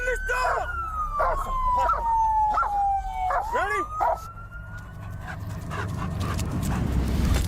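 A police dog barks and yelps repeatedly in rapid bursts close by while a police siren wails steadily in the background, then the barking fades into rumbling street noise.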